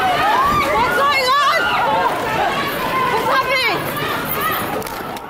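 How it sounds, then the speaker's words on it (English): At a London train station, a panicked crowd runs and shouts, with loud overlapping voices and frantic yelling close by over rushing footsteps and general commotion. "everyone begins running at once at a train station. You can feel the panic taking over as multiple people shout the same questions without any clear answer"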